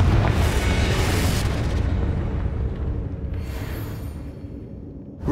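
Confringo explosion spell in Hogwarts Legacy, a loud booming blast that rumbles and slowly fades over several seconds, with a faint new thump at the very end.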